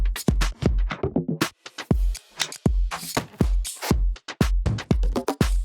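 A drum section built from Soundsmith sample packs plays alone: a busy, loud pattern of deep kicks and sharp, bright snare and hat hits in a steady, driving groove.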